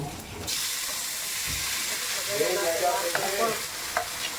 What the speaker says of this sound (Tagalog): Kaya na natin yung ating pork.